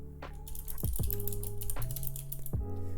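Fast clicking of keys on a computer keyboard, a rapid irregular stream of close, crisp taps, heard over a loud steady background hum with shifting tonal sounds.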